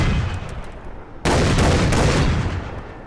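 A standard shotgun fires in a first-person shooter, one loud, close blast with a sharp onset that rings out and decays over the following two seconds, after quieter ambient game noise.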